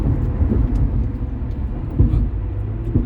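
A truck speeds past on a road, producing a loud, steady low rumble of engine and tyre noise that swells slightly a few times, with no talking.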